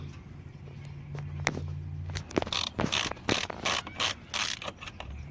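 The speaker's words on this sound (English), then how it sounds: "You're going to loosen these two and pull the unit out." Ratchet clicking in quick bursts while loosening the mass airflow sensor screws on a 2009 Lincoln MKS, close and fairly loud over a low engine-bay hum, with brief metallic handling noises between strokes.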